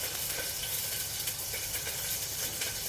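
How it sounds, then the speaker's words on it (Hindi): Cumin seeds sizzle steadily in hot, previously used frying oil for a tadka, a close, continuous crackling hiss at moderate loudness with no one talking. "तो तेल इसमें गरम हो गया है, तो जीरा डाल देती हूँ,"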